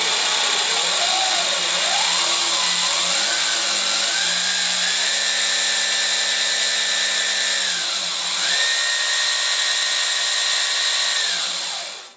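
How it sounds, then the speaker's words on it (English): Electric scooter motor revving hard under full throttle, its drive chain rattling noisily; a loud, continuous whine rises and holds steady pitch, dips briefly, then climbs again before cutting off. "So we have to get the noise down somehow, but it's not the motor, it's actually just the chain."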